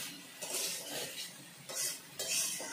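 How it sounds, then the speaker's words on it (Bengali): Vegetables with turmeric and salt, cooked before spinach goes into a spinach ghonto, frying in a pan with repeated bursts of scraping and stirring and a soft sizzle underneath, close up with no talk. "হলুদের গন্ধটা যাতে না থাকে তাই এখন একটু সবজিগুলো ভেজে নেব"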